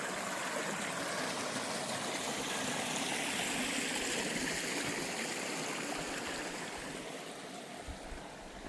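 A mountain stream runs past a trail on the Colorado Trail, a steady close rushing and gurgling of flowing water that stays constant and slightly eases toward the end, with nobody speaking.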